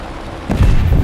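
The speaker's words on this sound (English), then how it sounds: "Ooh, that big explosion." A bomb explosion in the War Thunder combat game, dropped from an FR-1 Fireball aircraft: a single sudden deep boom rumbling on after a steady background drone, loud and heavy.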